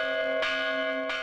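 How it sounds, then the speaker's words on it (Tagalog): One of the three Balangiga church bells in the Philippines tolls twice, each strike ringing out with a long sustained metallic hum, heard clearly and alone at moderate distance. "bahagi na ang pagbatingaw ng isa sa 3 kampana bilang pagtawag sa mga taga rito sa bawat misa"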